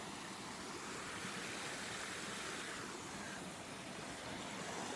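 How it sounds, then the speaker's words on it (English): Waterfall rushing beside a rainy hiking trail among rocks, a steady broadband roar of falling water that holds constant and fairly near with no voices over it. "I think there's another waterfall over there"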